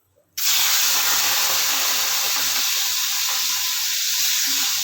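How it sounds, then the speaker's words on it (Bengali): Shrimp hitting a hot pan set off a sudden loud sizzle that carries on as a steady, close hiss of frying oil after a brief quiet start. "একটু ভাজবো ভালো করে।"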